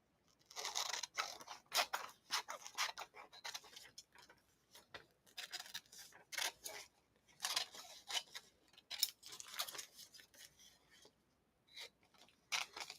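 Scissors snip out a paper cactus shape in quick, irregular bursts of crisp close cuts with short pauses between, faint and without talk.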